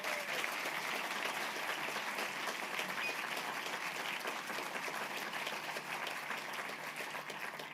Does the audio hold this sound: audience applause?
yes